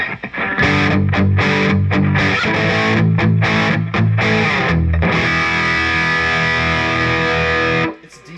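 Heavy, high-gain distorted electric guitar through a Boss Katana Artist MkII amp on its modern setting plays a chugging riff of quick palm-muted stabs, then a long sustained chord rings out before cutting off.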